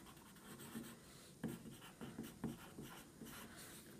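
Pencil writing on the back of a paper square, with faint, close scratchy strokes and a few sharper taps as letters are formed, heard alone without talk.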